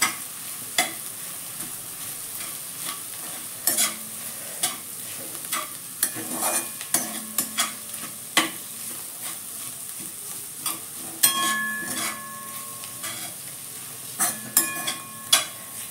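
Squeezed bitter gourd is stir-fried in a pan for a home-style sabzi, with a soft steady sizzle underneath repeated scraping and clinking strokes of a spatula against the pan.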